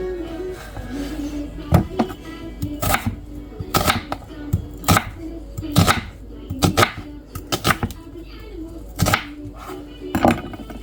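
Knife chopping an onion into thick chunks on a cutting board, a dozen or so sharp close thwacks at an uneven, unhurried pace, with a faint voice between some cuts.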